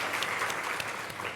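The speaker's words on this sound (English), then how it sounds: "Yes, that deserves an applause." An audience at a Sojourner Truth Legacy Project town hall breaks into steady applause, a dense, continuous patter of many hands clapping at an even loudness with no voices above it.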